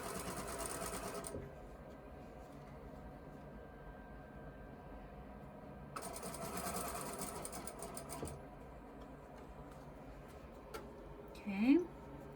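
A sewing machine stitches around a fabric scrunchie in short bursts, a sustained whirring run at the start and another in the middle, with quieter pauses between and a person talking throughout.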